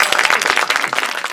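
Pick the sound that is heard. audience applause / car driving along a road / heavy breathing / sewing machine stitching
audience applause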